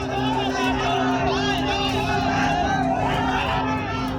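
An agitated crowd of protesters roars outdoors, a dense continuous babble of many raised voices blending into a loud, steady din without breaks.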